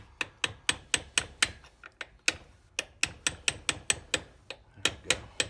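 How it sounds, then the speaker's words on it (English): A small hammer drives a punch to tap a keyway key into the lift gate motor of a 2007 Buick Terraza handicap van, about twenty sharp, close metallic taps in a steady rhythm with a few brief pauses. "I'll take a little punch and just lightly tap it into place."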